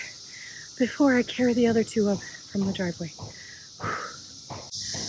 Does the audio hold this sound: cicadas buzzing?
yes